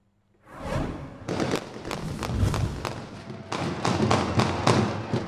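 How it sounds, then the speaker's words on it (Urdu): Celebratory aerial gunfire from lawyers after the Lahore Bar annual election results, a dense run of loud sharp cracks and thuds in irregular bursts, continuing steadily outdoors. "شدید ہوائی فائرنگ کرتے رہے، علاقہ گولیوں کی ترتراہٹ سے گونج اٹھا۔"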